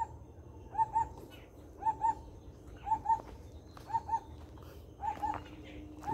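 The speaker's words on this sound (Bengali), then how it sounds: "তো কত সুন্দর পাখির ডাক শুনতে পাচ্ছেন?" At Chintamani Kar Bird Sanctuary, a bird repeats a two-note call about once a second, clear and moderately near over steady low rumble, with a faint thud near the end.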